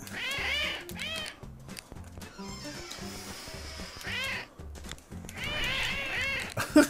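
Cartoonish cat meows from the video game CatNab, several bursts of meowing and yowling over bouncy game music, with short quiet gaps between the cat sounds.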